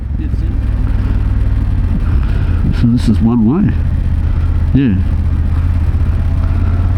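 A deep, rumbling motorcycle engine drones low and steady throughout, in the Alps. Voices speak briefly over it partway through.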